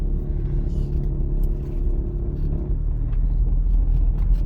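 A car pulls away on a driving exam route, its engine a steady low rumble heard from inside the cabin, continuous and fairly loud with no talk.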